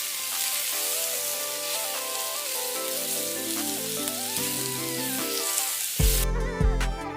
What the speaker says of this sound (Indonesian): Kemudian goreng udang.